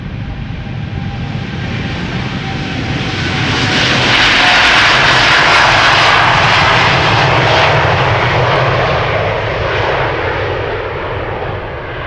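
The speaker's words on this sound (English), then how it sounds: "KLM flight 757 to Panama City, 787-10 Dreamliner, 4 years old, first flight December 2019." KLM Boeing 787-10 Dreamliner, four years old, departing Amsterdam Schiphol for Panama City, with a loud jet roar that builds as it passes close by, peaks in the middle, then eases off as it moves away.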